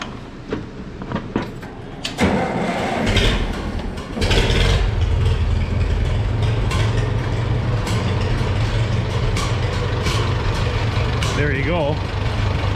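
An International W450 gas antique tractor engine cranks, catches around the two-second mark and settles into a loud, steady rumbling idle that runs on close by with an uneven, missing beat.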